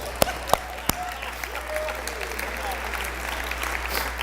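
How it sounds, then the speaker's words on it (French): Sparse, scattered applause from an audience, a few sharp claps standing out near the start before a thin spread of clapping continues over a steady low hum. "Je pense que ça mérite une main d'applaudissement."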